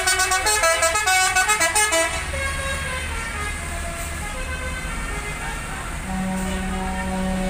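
Tour buses at a highway rest area blare telolet basuri horns back and forth, with rapid repeating musical horn notes up front and a long steady horn tone joining later over idling engines.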